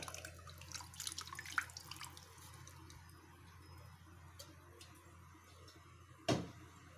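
Strained tamarind water poured into a pan for a Sunday fish curry makes a faint, soft trickle and splash, with a quiet clink near the end and no talking.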